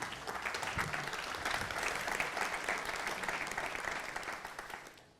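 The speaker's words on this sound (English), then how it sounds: "A round of applause for them." An audience at a technology conference applauds a panel of speakers, a steady full round of clapping from many hands that holds for several seconds, then fades quickly to quiet.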